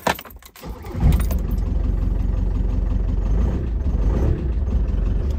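A brief cranking rattle gives way to a Ford van's engine catching and settling into a loud, steady rumbling idle close by, just after a clutch and rear main oil seal replacement.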